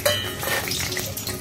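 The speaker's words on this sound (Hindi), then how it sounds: "इसमें मैं तेज़पान, बड़ी इलायची, हरी इलायची, लौंग, दालचीनी, करण फूल और काली मिर्च डाल रही हूँ।" Whole spices (bay leaf, black and green cardamom, cloves, cinnamon, star anise and black pepper) drop into hot oil in a kadhai over a gas flame, giving a continuous hiss with light metallic clinks.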